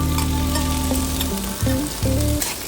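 Dried chili, nigella seeds, onion and garlic frying in hot oil in a kadai, a loud steady sizzle heard up close with occasional stirring and no talking.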